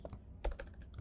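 Code being typed on a computer keyboard while building a Flutter book store app, a quick run of light key clicks heard alone, faint and close, with one slightly louder tap in the middle.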